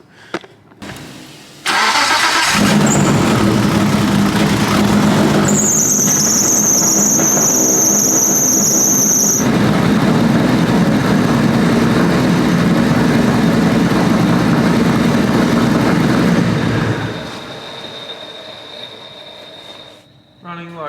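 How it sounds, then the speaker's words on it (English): A Mitsubishi Evo 6 race car engine cranks and fires, then runs loud and rough close by for about fifteen seconds before shutting down, with a high squeal over the first few seconds. "I'll fire it up, see what happens"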